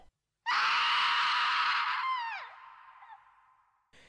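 A loud, sustained high-pitched scream bursts from silence, holds for about two seconds, then drops into a wavering, fading wail.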